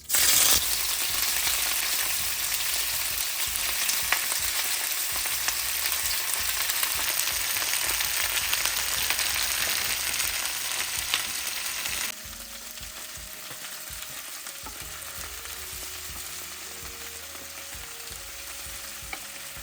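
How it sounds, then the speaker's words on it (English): Shrimp sizzles and crackles steadily in hot oil in a pan, loud and close, then the hiss drops to a quieter, steadier fry partway through. "now I am frying my shrimp up"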